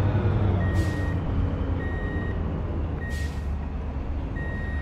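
A truck in the game Truck & Logistics Simulator backs up, its reversing alarm giving four steady, evenly spaced beeps over a constant low engine rumble, with a couple of faint hissing bursts.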